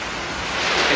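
Heavy rain pours down on a street in Yaounde, Cameroon, making a dense, steady hiss that fills the moment and swells slightly toward the end, with no voices.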